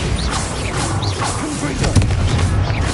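A Bombarda blasting spell cast in Hogwarts Legacy lands as a dull booming impact near the end, amid swooshing magical effects and busy game sound.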